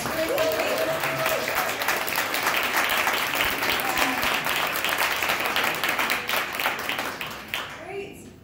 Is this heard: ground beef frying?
no